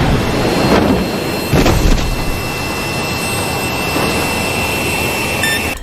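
A loud, steady jet engine roar standing in for a jetpack, a continuous broadband rush with a couple of brief surges near the start.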